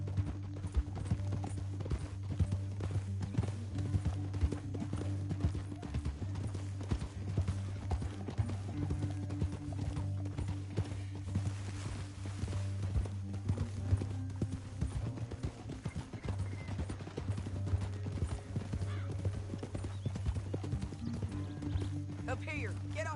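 Horse hooves clip-clop steadily in Red Dead Redemption 2 as riders move through a canyon, a continuous rhythmic trot under a low musical drone, with occasional snorts and people speaking over it.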